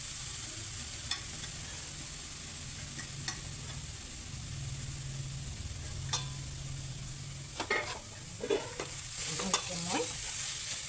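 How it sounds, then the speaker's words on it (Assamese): Grated carrot fries with cardamom and bay leaves in a pan, a soft continuous sizzle with occasional scraping stirs and light clicks of a utensil, close and fairly quiet, with no talking. "ইয়াতে মই দি দিম পিহি থোৱা গাজৰখিনি।"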